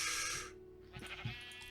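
Sheep bleating in the video game Thaumaturge, a couple of short, quiet bleats after a burst of broadband noise, set over a steady low in-game hum.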